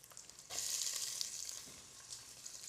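Garlic, jalapeño and onions hit a hot pan for chicken tortilla soup, a sudden bright sizzle that jumps up and then holds as a steady close frying hiss with no talking.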